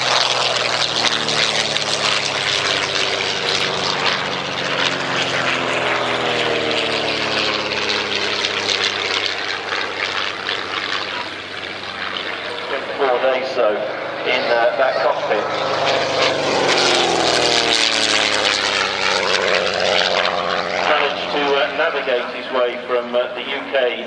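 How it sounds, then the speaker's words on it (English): A vintage de Havilland DH88 Comet racing aircraft with a 210 horsepower Gipsy Queen inline six-cylinder engine drones past at Old Warden, a sustained propeller roar that rises, fades slightly and swells again under continuous commentary. "210 horsepower Gypsy Queen inline six-cylinder engine, giving those typical top speeds"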